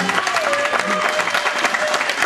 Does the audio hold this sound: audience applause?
yes